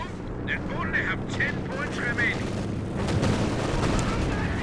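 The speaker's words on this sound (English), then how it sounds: "So machine gun doing its job here, just suppressing enemy units." Machine gun fire from a Company of Heroes 2 battle, a steady spray of gunfire with scattered shots over dense battlefield noise. A voice talks throughout.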